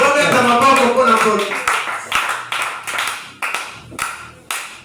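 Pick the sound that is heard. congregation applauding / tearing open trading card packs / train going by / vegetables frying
congregation applauding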